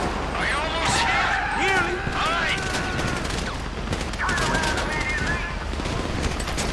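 Rapid bursts of Grand Theft Auto 5 gunfire crackle continuously during the Paleto Bay Score heist, with loud shouting voices over the top of the dense shooting.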